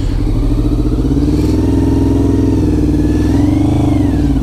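A heavy 540-pound motorcycle churns through mud at an abandoned military fort, its engine droning loud and steady at close range, rising and falling with throttle changes, with no talk.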